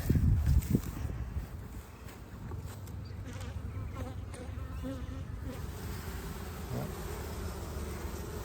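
Honey bees buzz around hive colonies late in the honey flow, the dense, steady hum sounding close and continuous throughout with no talking.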